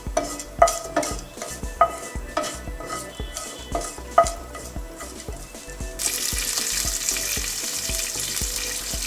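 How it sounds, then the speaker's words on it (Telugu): Chana dal and curry leaves fry in hot oil in a pan, with a steady close sizzle broken by repeated stirring scrapes and clinks, then a louder, more even hiss toward the end. "కొంచెం పసనపప్పు, కొంచెం కరివేపాకు అన్నీ వేసి మనం ఫ్రై చేసుకుంటాం."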